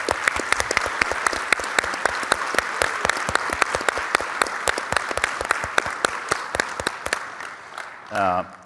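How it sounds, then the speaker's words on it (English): An audience at a manufacturing awards event gives a lively round of applause with sharp, distinct claps, which thins out toward the end before a brief voice comes in. "Let's give them a round of applause."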